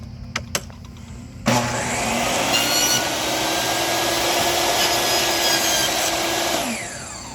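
A table saw rips an eighth inch off a decking board on a sled. The blade whines up loudly, then holds a long, steady close cutting roar before winding down.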